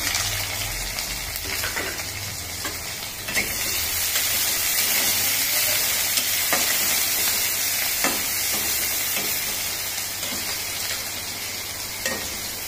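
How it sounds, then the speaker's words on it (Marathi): Curry leaves and onion dropped into spluttering mustard seeds in hot oil for rawa upama, a loud bright crackling sizzle with scattered pops and stirring scrapes, close and steady. "छान तळतळली राई। आता कढीपत्ता, कांदा टाकू आपण।"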